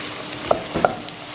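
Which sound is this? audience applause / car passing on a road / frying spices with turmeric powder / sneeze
frying spices with turmeric powder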